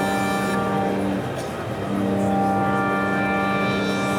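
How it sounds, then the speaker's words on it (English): Five Modal CRAFT synths linked together at the NAMM 2017 show play a sustained, buzzy drone. The tone shifts and darkens midway as the low-pass filter cutoff is swept, then opens again. "if I'm playing a sound and I adjust, say, for example, the low pass filter cutoff."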